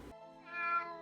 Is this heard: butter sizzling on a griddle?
no